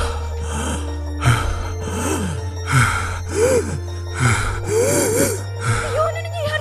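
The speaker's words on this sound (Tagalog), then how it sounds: "parang palalim ng palalim yung paghinga mo ah" Labored, deepening breathing from a man in distress, heard as repeated gasping inhales and groaning breaths at a steady rhythm, close and fairly loud over a constant low hum.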